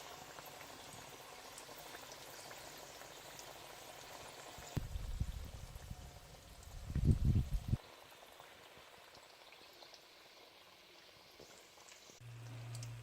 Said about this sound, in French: Il faut les laisser frire tout doucement, les tourner de temps en temps jusqu'à ce qu'ils soient dorés